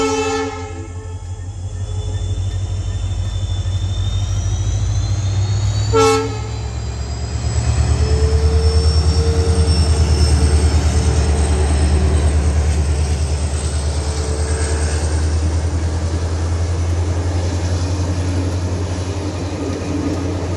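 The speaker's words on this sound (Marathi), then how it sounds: "आता ट्रेन जाईल थोड्याच वेळात इथनं मागून" A train rolls past a railway level crossing with its barrier down, a loud, steady low rumble of wagons lasting throughout, with a brief horn blast near the start and a sharp clank partway through.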